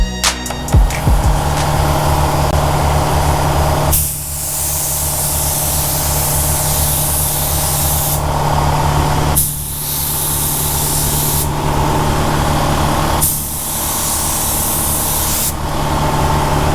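A spray gun applies sparkling Merlot Pearl base coat to a box Chevy Caprice LS Brougham, loud hissing bursts of several seconds each separated by short pauses, close and alone.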